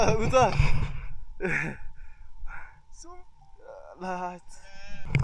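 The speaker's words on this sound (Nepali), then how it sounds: "गाईको बच्चाहरू कस्तो डेन्जर कराइरहेछ" Calves bawl and bleat in several loud, wavering cries, close by, with a person talking in between.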